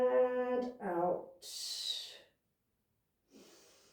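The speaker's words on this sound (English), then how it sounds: "Full deep breaths in and out." Slow, audible breaths in and out during a guided yoga stretch, following a spoken instruction, with a long breathy exhale and a softer breath after a pause.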